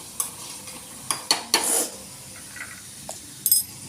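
Garlic turning golden in hot oil for sarson ka saag gives a faint sizzle, interrupted by a few sharp clinks and scrapes of a utensil on the pan in a short burst.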